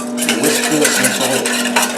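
Whisking salad dressing with dried mustard in a bowl, a steady scraping, clattering stir close by, continuous for a couple of seconds with no talk over it.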